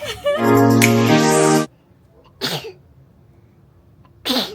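A child indoors sneezes three times: a long, loud, voiced first sneeze, then two shorter, softer sneezes spaced about two seconds apart, with no talk.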